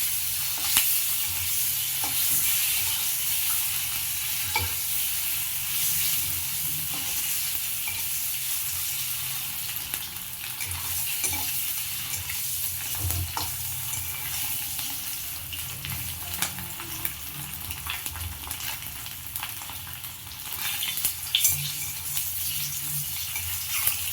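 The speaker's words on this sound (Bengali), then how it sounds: "আমি কিন্তু ডিমটাকে খুব ডিপ ফ্রাই করবো না" Eggs fry in a little oil with a continuous crackling sizzle that runs at an even level throughout, with occasional stirring and scraping sounds on top.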